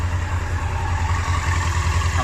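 Steady low idle of a restored Yamaha R1 5JJ motorcycle engine warming up on choke, a close, even rumble with no other sounds.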